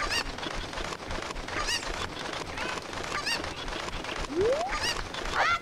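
Chicken-like cuccos in The Legend of Zelda: Ocarina of Time on the N64 let out squawking, sweeping calls several times in a busy market over a steady game background, with no talking.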